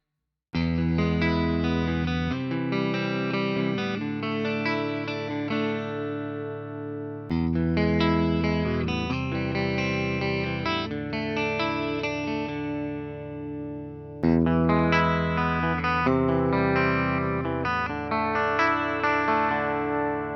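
A 2004 Peavey EVH Wolfgang Custom Shop electric guitar played through effects with chorus and distortion, three long strummed chords ringing out in turn, each sustained for several seconds, loud and close with no talking.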